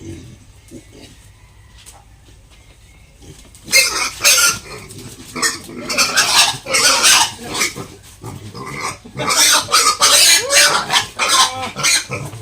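Pigs at a piggery, handled for injections, squeal and grunt in loud, harsh bursts after a quiet opening, with repeated overlapping cries close by.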